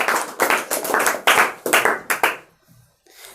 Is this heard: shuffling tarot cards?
no